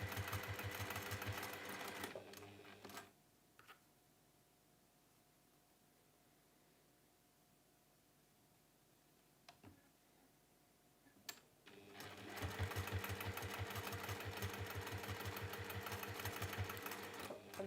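A sewing machine stitches fabric pieces together for a folded pinwheel cushion cover, running in two steady, rapid bursts of close mechanical chatter separated by a long quiet pause in the middle.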